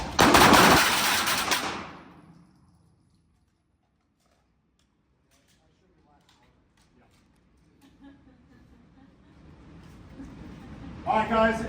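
A rifle fires on a shooting range. One loud, sharp blast opens the sound and fades into near silence, and faint scattered noises build toward the end.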